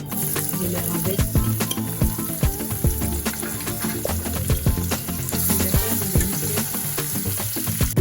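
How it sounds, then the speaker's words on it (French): Onions, garlic and tomato fry in a pot for Senegalese thieboudienne, giving a steady loud sizzle throughout with scattered clicks and scrapes of stirring. "Et utiliser les oignons en premier avec un peu de l'ail que vous voyez à côté."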